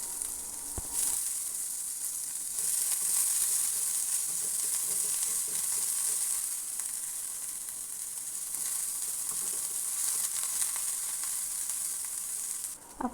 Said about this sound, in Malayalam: ഇനി നന്നായിട്ട് തന്നെ ഒന്ന് വഴറ്റിയെടുക്കാം